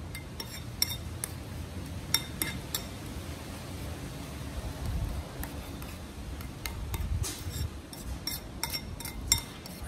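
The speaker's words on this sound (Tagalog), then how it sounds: "Haluin lang natin guys" A utensil stirs nacho salad in a bowl, giving repeated light clinks and scrapes in an uneven rhythm, faint and close against a soft background hum.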